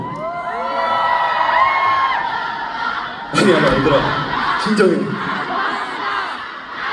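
A concert crowd at a Busan &CON4 show roars and cheers loudly, a dense mass of shouting voices swelling over the hall, with a voice speaking over the noise and a sudden surge of screams midway.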